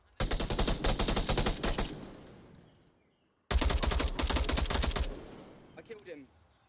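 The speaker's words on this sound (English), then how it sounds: "Jittery able to hear the gunshots from SCX" Two long bursts of rapid automatic gunfire in the VR shooter Onward, dense rattling volleys each lasting a couple of seconds with echoing tails, close and loud, with faint talk near the end.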